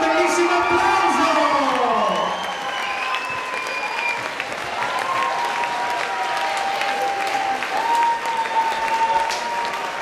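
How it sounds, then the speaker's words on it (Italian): A theatre audience at a live show bursts into loud, sustained applause mixed with cheering, whoops and whistles, dense clapping continuing throughout while a voice shouts over it at the start. "vi facciamo ancora un bellissimo applauso!"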